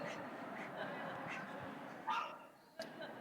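Dogs in a home setting give a few short yips and whimpers over the top of ongoing conversation, fairly faint and sporadic.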